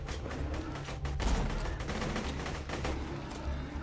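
Pistol and sniper rifle gunfire in the video game Borderlands 2, a run of close, rapid shots and bursts with dense booming impacts, continuous through the clip.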